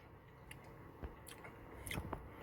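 Close, quiet chewing and biting on a double cheeseburger with pickles, ketchup and mustard on a seeded roll, soft squishy bites with a few small crunches and no talking.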